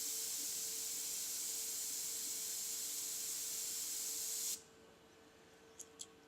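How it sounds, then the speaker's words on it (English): Aerosol spray paint hisses onto a crack in a freehand painted skull, one long continuous burst that cuts off abruptly, followed by two faint taps. "I am spraying with a couple of millimeters now."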